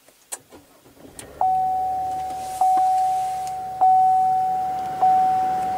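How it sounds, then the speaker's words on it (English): A 2015 Buick LaCrosse starts by push button: a brief crank and the engine catching, then a settled idle under four evenly spaced chime tones. "Just put your foot on the brake and hit the button to start, of course."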